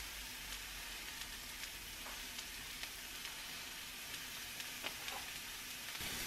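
Brussels sprouts sizzle steadily in a hot pan, a constant frying crackle with occasional small pops and a faint stir near the end.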